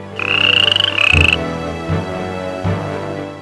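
A frog croaks close by in an animated children's tale, a buzzy trilling call followed by a few deep, separate croaks spaced about a second apart.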